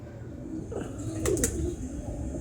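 Pigeons in a fancier's flock coo low and steadily, while a couple of quick wing-flap bursts cut through near the middle.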